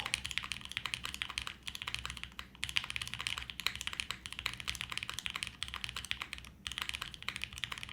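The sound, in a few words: mechanical keyboard typing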